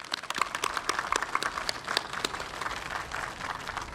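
A group claps together at a national counter-terrorism training exercise, a moderate burst of applause with many overlapping hand claps sustained for a few seconds.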